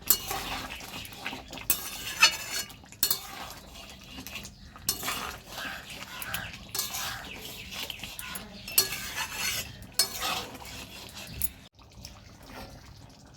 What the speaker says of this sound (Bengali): 3-4 বার এইভাবে নেড়ে নেব 2 মিনিট অন্তর অন্তর।